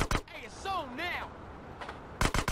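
Gunfire in GTA San Andreas during a firefight in a train tunnel: a few sharp, loud shot bursts open the clip and more cracks follow near the end, with a voice speaking in between.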